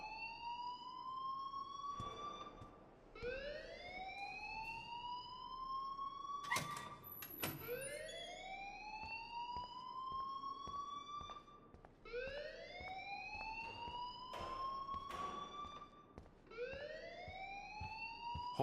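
Alarm siren blaring in the Life is Strange video game, rising wails repeating roughly every few seconds, loud and continuous with harsh electronic tones.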